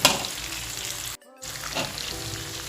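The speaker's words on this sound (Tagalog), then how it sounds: "Gigisa ko lang to dito." Garlic and onion, with the garlic skins left on, sizzle and fry steadily in a large wok, with a short silent break midway before the frying resumes close and constant.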